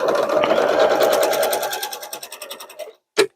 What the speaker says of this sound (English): get it lined up right and just sew right down that edge